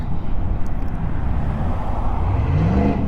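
A loud truck passes on a road beside a scooter rider, a heavy low rumble with wind roar that swells and holds close for several seconds.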